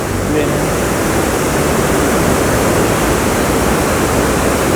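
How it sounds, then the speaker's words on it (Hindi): Fast-flowing Ganges river water in a Himalayan valley, a loud, steady, unbroken rush that fills the whole clip without pause. "बहुत वेग से बह रही है गंगा जी। आपको आवाज़ भी आ रही होगी पानी की।"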